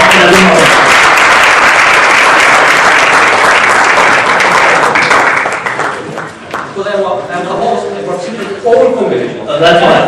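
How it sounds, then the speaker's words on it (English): Loud audience applause at a speech contest, thick sustained clapping that thins out partway through as voices and a few laughs come through. "Let's give them big rounds of applause for Ahmed Abdul Mu'ti."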